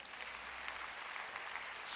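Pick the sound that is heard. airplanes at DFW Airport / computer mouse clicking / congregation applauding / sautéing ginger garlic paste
congregation applauding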